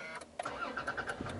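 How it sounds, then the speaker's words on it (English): A 2016 Toyota Tacoma TRD Sport pickup starting by push button, a short faint crank that catches into a low idle, quiet and brief. "The truck will start right up for you."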